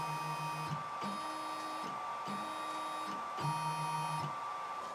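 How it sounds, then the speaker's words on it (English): A Two Trees TTC-450 500W desktop CNC machine jogs into position over a wooden board, its stepper motors giving a steady whine that shifts pitch in several distinct stages, loud and close with no voices. "what we need to do now is more or less position our machine over the board"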